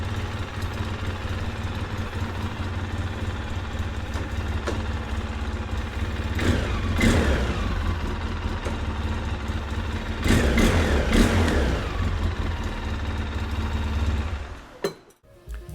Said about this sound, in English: Can hear that steering tie rod just banging on the exhaust header